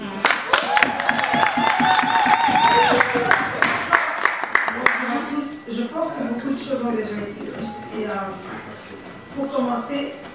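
Applause for a federal deputy at a Brussels gathering of the Congolese and African diaspora, dense clapping for the first few seconds over music and voices, then fading into someone speaking.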